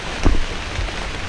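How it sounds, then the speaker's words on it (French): Rain falls in a jungle on a ridgeline trail, a steady broadband patter, close and fairly loud, with no talk. "La pluie est là."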